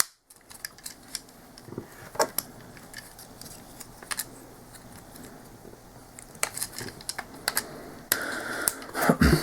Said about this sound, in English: You take the arms and fold out these insect legs from the sides, and you snap them on like this